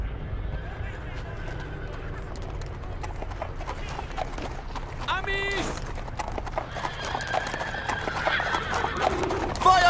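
Horse hooves in the video game Brothers in Arms: Earned in Blood clip-clop steadily at a moderate distance, a horse whinnies midway, and voices talk in German over the hoofbeats throughout.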